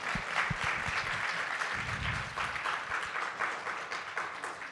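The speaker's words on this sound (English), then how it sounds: "Let's give her a round of applause, everyone." An audience at a talk on ADHD applauds steadily for several seconds, a dense wash of many hands clapping at close range with no voices over it.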